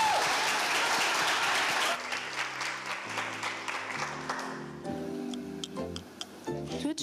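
An audience at a hybrid live poetry slam event applauds with steady, dense clapping that loosens into scattered individual claps toward the end.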